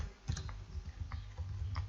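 A few quick keystrokes on a computer keyboard while an item code is typed into stock software: close, light clicks in short bursts over a low steady hum.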